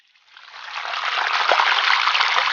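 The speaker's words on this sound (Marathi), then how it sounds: "कुंडामधून मित्रांनो बाहेर पडणारं पाणी इथून पडतंय." Water from a small natural hot spring pool pours out and falls from the outlet, a steady close gushing rush that swells up within the first half second and then holds loud and constant.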